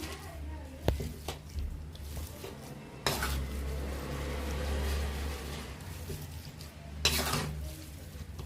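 Gongura chutney cooked in groundnut oil being stirred in a pot: a low sizzle under repeated metal scrapes and clanks of a spoon against the pot, with a few louder knocks spaced through the stretch.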